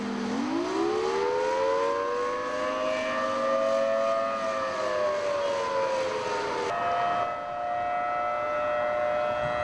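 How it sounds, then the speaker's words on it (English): Civil defense air-raid sirens wail across downtown Kuwait City in 2003, a loud sustained tone that rises at the start, holds and slowly falls, then shifts to a lower steady pitch, echoing like a distant outdoor warning. "the first of 3 different waves of sirens went off here in downtown Kuwait City"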